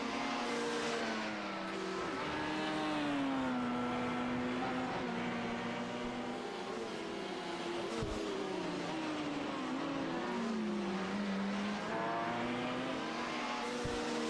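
LMP1 class sports prototype race cars circle a Belgian circuit in an international sports car championship, engines droning and shifting pitch as several cars pass at mid-distance, steady and continuous with no talk.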